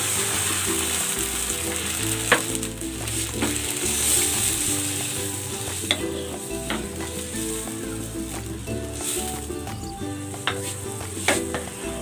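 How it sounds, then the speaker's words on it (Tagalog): A pan of chicken broth with pechay and egg bubbles and sizzles close by, a steady crackling simmer with scattered clinks of utensils stirring through it. "Yan, kumukulo na."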